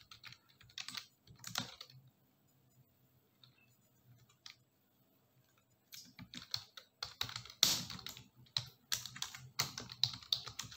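Data-entry typing on a computer keyboard, a run of close, crisp key clicks in two bursts separated by a quiet gap, the second burst busier and louder with irregular rapid strokes.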